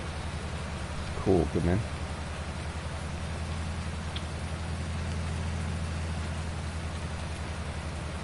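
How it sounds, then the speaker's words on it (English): Steady rain falls in the Farming Simulator 19 video game, a continuous even hiss throughout, with someone speaking briefly near the start. "Just doing jobs in the rain."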